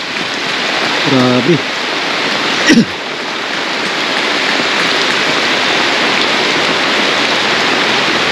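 Rain starts as a typhoon arrives, a loud, steady hiss of heavy rainfall driven by wind. A person speaks briefly near the beginning.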